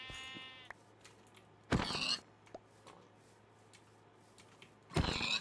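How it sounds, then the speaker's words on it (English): Sheep in the video game Minecraft give two short, loud bleats a few seconds apart, close and clear, with faint clicks and a soft hum between them. "let's also go ahead and get some sheeps."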